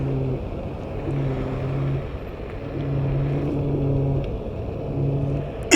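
A Kukirin G2 electric scooter's motor shakes while riding, giving a loud, close rumbling drone with a pulsing hum that swells and fades in repeated waves amid wind noise.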